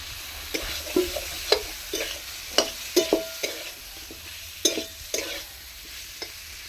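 Potatoes frying in a pan are stirred with repeated scraping strokes, a steady sizzle running beneath the irregular clatter of the spoon, close and moderately loud.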